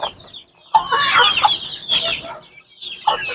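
Chickens and chicks cluck in close, irregular bursts of clucks and chatter, with short pauses between.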